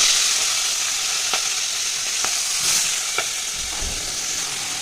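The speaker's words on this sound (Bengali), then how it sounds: "তেল গরম হয়ে গেছে, আমি দিয়ে দিচ্ছি মাছগুলো" Fish frying in hot mustard oil in a kadai on a gas stove, a steady loud sizzle and hiss with a few sharp pops and spatters, no voices.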